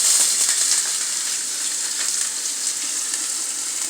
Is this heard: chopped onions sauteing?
yes